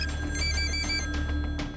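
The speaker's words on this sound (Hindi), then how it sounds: "फोन की घंटियां लगातार घनघना रही थीं।" Telephones ring in a police control room, with steady electronic bell tones holding over a constant low hum and a few soft clicks, loud and continuous.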